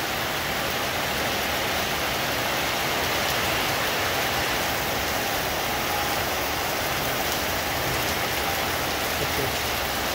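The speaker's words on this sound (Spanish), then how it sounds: "Está lloviendo muy fuerte." Heavy winter rain pours down in a dense, even hiss that stays loud and unbroken throughout, with no voices.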